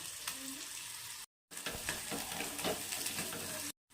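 Chopped onion sautés in hot oil with cumin, making a close, steady sizzle with spoon scrapes and stirring clatter, cut by two brief silent gaps.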